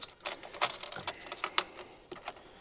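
Car keys jangle in short bright bursts, metallic clinks coming close and fairly loud over a quiet room during a steering wheel install on a BMW F Series.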